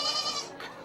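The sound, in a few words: goat bleating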